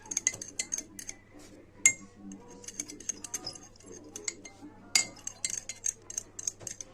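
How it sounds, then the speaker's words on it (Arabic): A fork clinks and taps briskly against a bowl while beating a sablé biscuit mixture with vanilla, producing quiet, irregular metallic ticks and scrapes up close, with a faint steady hum in the background. "دلوقتي كده هنضربها بالشوكة كده"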